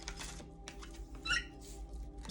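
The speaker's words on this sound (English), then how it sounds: "That was a hiccup, believe it or not. It sounded like a kitten," A person's hiccup that resembles a kitten's mew: a single short, squeaky high-pitched yelp midway, close and quiet, surrounded by faint light clicks and low room hum.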